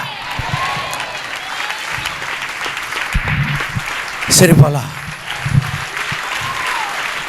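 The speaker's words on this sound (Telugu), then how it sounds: "ఇప్పుడు చప్పట్లు కొట్టాలి." A church congregation applauding during a sermon, steady clapping from a crowd spread through the hall with a voice speaking over it and a louder cluster of claps midway.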